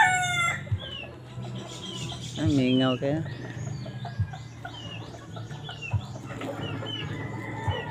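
A rooster crows loudly nearby amid scattered clucks and chirps from other fowl, with a brief spoken line in the background.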